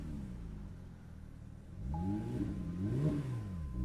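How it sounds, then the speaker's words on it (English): Porsche 992 GT3 in sport mode with its exhaust valves open fires up about halfway through, heard from the cabin through a cracked window, settling into a rising and falling rev with deep rumbling tones after a quiet start. "let's crack the window a bit so you guys can hear it start"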